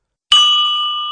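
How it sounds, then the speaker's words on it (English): A glass filled with water, jal tarang style, struck once, giving a clear bright ringing tone that starts sharply and sustains while slowly fading, alone in silence. "We learned that the small vibrations are made when we strike the glass."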